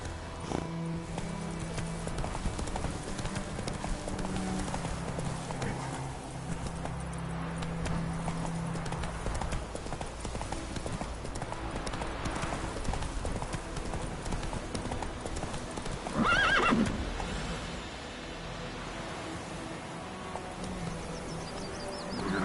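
Roach, a video game horse, gallops with loud, rapid, continuous hoofbeats in a close, driving rhythm that holds for the whole stretch, with a brief louder burst near the end.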